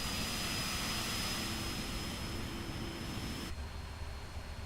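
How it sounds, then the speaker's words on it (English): An auxiliary power unit spools up on a PMDG 777-300ER airliner in Microsoft Flight Simulator 2020, a steady loud roar with a thin high whine that suddenly drops to a quieter hum near the end. "You can hear that APU kicking off there."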